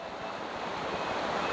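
River water rushes in a continuous broad wash, a steady close roar with slight swelling toward the end and no talking.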